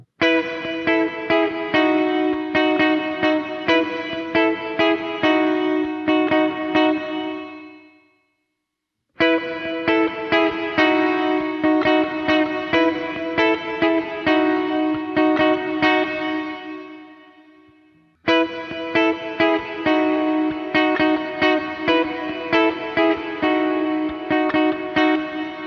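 Guitar played through an Old Blood Noise Endeavors Procession reverb pedal, strummed chords in three repeated phrases, the last ringing out into a smooth decaying tail before silence, loud and with no talk.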